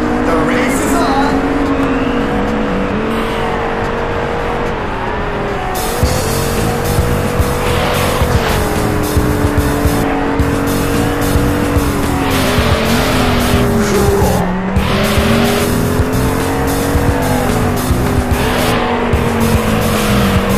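Race cars in Auto Modellista on the original Xbox, roaring engines revving and shifting through gears with recurring tire squeals and skids, loud and continuous for the whole stretch.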